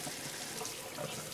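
Tapioca pearls rinsed under running cool tap water in a home kitchen, a steady hissing splash of flowing water from start to end, close and fairly loud, with no voices.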